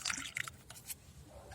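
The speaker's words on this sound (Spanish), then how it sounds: "Llenan también el cuarto orificio con agua destilada." Distilled water trickles and drips into a car battery cell, small wet splashes and gurgles in a quick burst, then fainter dribbles, quiet and close.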